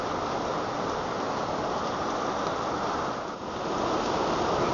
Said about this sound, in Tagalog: Ito ulan yan.